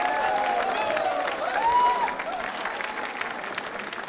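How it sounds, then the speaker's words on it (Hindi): An audience at a quiz show for accounts officers applauds a participant, with dense, sustained clapping that holds steady and swells slightly midway, along with faint tonal sounds over it. "सीमा जी के लिए तालियां जोरों से बजाइए"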